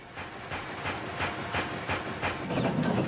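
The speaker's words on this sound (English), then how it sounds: "This great steam-driven workshop in his backyard." Steam-driven workshop machinery in a backyard workshop, built from scrap and Victorian machine parts, runs with a steady hiss and a regular rhythmic clanking beat, then a louder burst of steam near the end.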